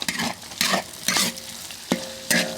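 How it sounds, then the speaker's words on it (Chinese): Garlic sprout stems being stir-fried in a wok with dried chili, Sichuan pepper, ginger, garlic and lean pork: a steady sizzle broken by four or five loud scraping stirs at a brisk, uneven pace, up close with no talk. "把那个蒜苗头头儿先倒进去炒一下"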